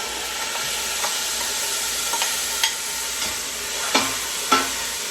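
Ingredients go into a pot of red lentil and black bean chili, a steady sizzle and hiss marked by several sharp stirring scrapes and clinks toward the end, with no talking.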